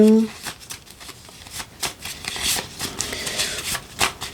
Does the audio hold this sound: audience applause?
no